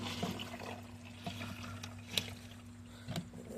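A new washing machine drains dirty water, a steady low pump hum running beneath soft sloshing and gurgling, with a few brief splashy bursts over a few seconds.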